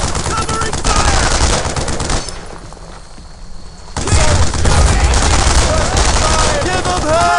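Loud, sustained machine gun fire in the WWII shooter Brothers in Arms: Earned in Blood, rapid bursts packed close together, briefly easing off before resuming heavier, with battle noise throughout.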